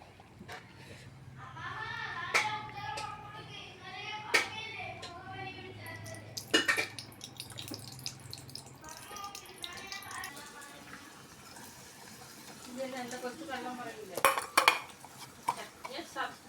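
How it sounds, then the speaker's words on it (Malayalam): A pot of milk being stirred for kadala pradhaman, a Kerala chickpea dessert, with repeated metallic clinks and scrapes of a utensil against the vessel, some louder knocks standing out, while a person talks over it. "അപ്പോൾ ഞാൻ ഇത്തിരി നേരം ഒന്ന് ഈ പാലിലിട്ട് ഒന്ന് ഇളക്കട്ടെ."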